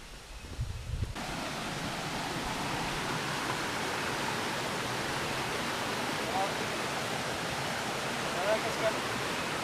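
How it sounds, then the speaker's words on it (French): A waterfall in the mountains near Ubud, Bali, gives off a steady, dense rushing roar that starts abruptly and fills the scene evenly at a moderate level. "Voilà, ça c'est la cascade en fait."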